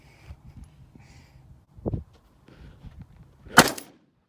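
A single sharp rifle report cracks out near the end during a 225-yard bowling pin shooting competition, preceded by quiet handling clicks and soft thumps at close range.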